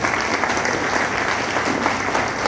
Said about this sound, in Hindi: एक बार अपने आप को जोरदार ताली से स्वागत करिए